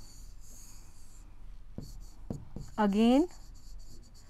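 Pen strokes scratching on paper in a few short, distinct marks. Someone speaks briefly over the writing.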